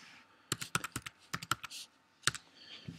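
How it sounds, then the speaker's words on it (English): Computer keyboard keys clatter in two quick bursts of typing, close and crisp, with a short pause between them and a final single keystroke, no talking. "type in your username and password allocated to you by our representatives"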